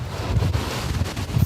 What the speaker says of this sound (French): Le vent se fait déjà entendre dans le Finistère